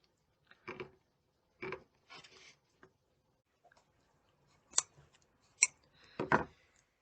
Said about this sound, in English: with the knife, just working through and following that curved line